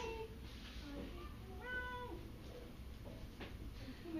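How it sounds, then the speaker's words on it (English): A cat meows several times, faint and somewhat distant, the calls rising and falling over a quiet background hiss. "Oh, it's a cat."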